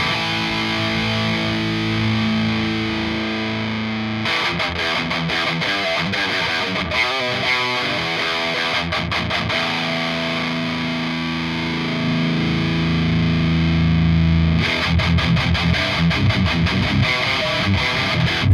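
ENGL E860 rackhead guitar amp with its bass control being adjusted, producing a heavily distorted metal guitar tone with palm-muted chugs and sustained chords that grow fuller and heavier toward the end.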